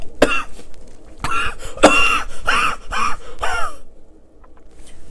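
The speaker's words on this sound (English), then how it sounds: "How long have you had that cough?" A man coughs in a damp catacomb cellar, several harsh hacking bursts in an irregular rhythm, some raspy and drawn out, close and loud.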